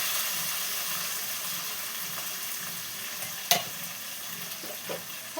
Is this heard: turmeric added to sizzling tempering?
yes